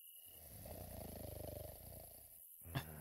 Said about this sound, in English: There's like a little slight, quiet snoring sound.